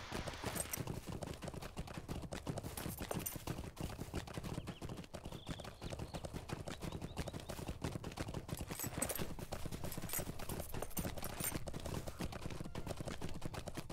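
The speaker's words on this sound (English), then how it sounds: "Ride a horsey through the bog." Horse hooves clip-clopping through a bog in the Lord of the Rings Online video game, a brisk continuous galloping rhythm of hoof strikes lasting the whole stretch, moderately quiet with no one talking over it.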